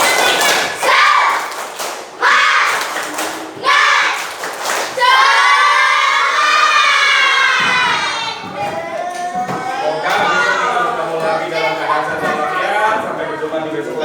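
A class of children does a rhythmic clapping chant: a few sharp, close claps open it, then loud group voices chant together in a bouncing rhythm with scattered claps underneath.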